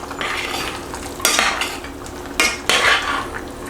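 Spoon scraping and stirring brown sugar into a pot of chicken green curry, with a few sharp metallic clinks against the pot between softer swishing strokes, close up and without talk.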